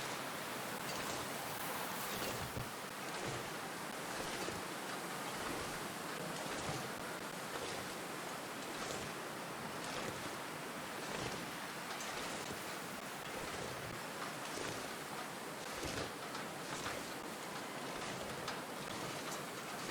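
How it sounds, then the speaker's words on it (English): Strong wind in The Long Dark, a snowy survival game, roars as a steady, dense hiss with gentle gusting swells throughout and no talking. "I'm walking slowly because it's super windy."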